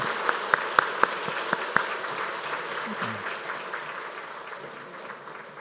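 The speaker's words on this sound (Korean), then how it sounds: "우리 인사할 때 큰 박수 하겠습니다" A church congregation applauds together during a Sunday service, with a few sharp individual claps at first settling into steady, moderately distant clapping that slowly tapers off.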